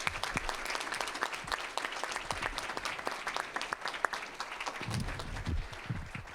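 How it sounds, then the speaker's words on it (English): Loud sustained applause for student athletes at a school board meeting, a room full of close, crisp clapping, rhythmic and dense, with a few thumps and murmurs toward the end. "Let's give them a round of applause"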